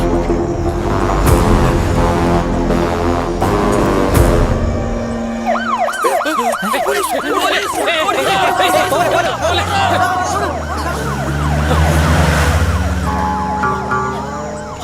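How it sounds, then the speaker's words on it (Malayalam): An ambulance siren wails loudly and up close with a rapid rising-and-falling tone, starting after a few seconds of dramatic music and continuing to the end over crowd murmur and voices. "ആംബുലൻസ് ആടാ."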